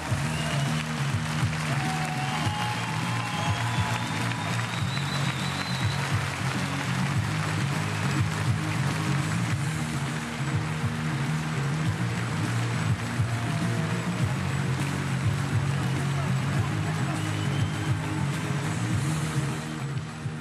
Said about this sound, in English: SNP leader Nicola Sturgeon taking the applause here in Glasgow at the Armadillo after her awesome conference speech.